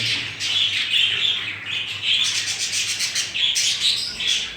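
A group of jumbo show budgerigars kept as a nesting breeding pair chirp and chatter busily at close range, with bright repeated tweets and squawks overlapping continuously.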